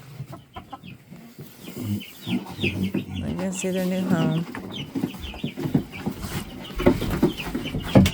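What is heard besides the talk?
buff Orpington and Viking Icelandic chickens clucking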